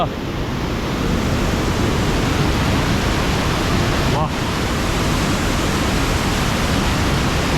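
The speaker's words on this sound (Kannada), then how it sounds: "ಇಡನ್ ಫಾಲ್ಸ್. ನೀರು ನೋಡಿ" Hidden waterfall inside a dark cave in the Philippines, a loud, dense, steady roar of falling water filling the whole space with no break.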